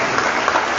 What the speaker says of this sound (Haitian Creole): On doit applaudir frère encore pour